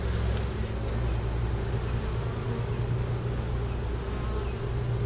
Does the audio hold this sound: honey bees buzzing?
yes